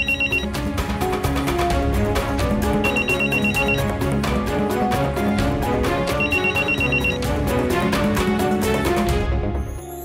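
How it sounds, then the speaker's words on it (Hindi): A musical phone ringtone plays continuously and loudly, a bright looping melody with steady rhythm and no voices over it. "फोन बज रहा है आपका।"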